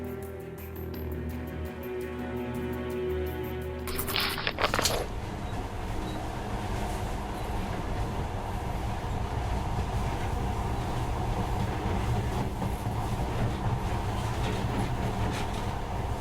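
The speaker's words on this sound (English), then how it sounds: "In the past, trains were ordinary things. But now, this monorail seems magic, doesn't it?" A monorail train runs in the video game Metro Last Light, giving a continuous rumbling roll with a brief sharp burst early on, then a steady loud drone to the end, with no talking.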